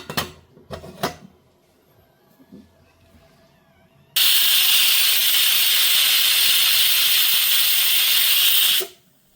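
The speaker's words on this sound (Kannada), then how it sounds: "ಇದಕ್ಕೆ ಕ್ಲೋಸ್ ಮಾಡಿ 2 ವಿಷಲ್ ಹಾಕ್ಸ್ಕೊಳ್ಳೋಣ." A pressure cooker full of tomato bath lets out a loud, sustained hissing steam whistle for about four and a half seconds, then cuts off abruptly. Faint kitchen clatter comes before it.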